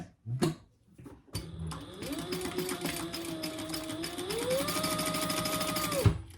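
A sewing machine basting fabric in place runs a rapid steady stitching whir close by, speeding up midway after a few soft handling clicks at the start.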